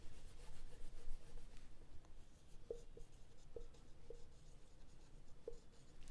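Pen or pencil scratching across paper while a bar graph is drawn and labelled for a school maths lesson, a soft continuous rubbing with a few light taps, close and quiet.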